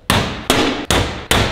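A giant fork strikes a metal safe four times in a steady rhythm, each hit a loud, sharp metallic bang with a brief ringing decay, close and alone.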